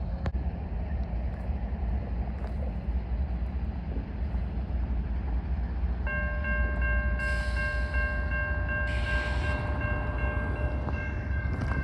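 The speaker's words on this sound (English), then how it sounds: "waiting for one of these trains to come over the crossing" A train rumbles past steadily over a crossing, and a sustained horn-like tone joins partway through, along with a brief higher whine near the end.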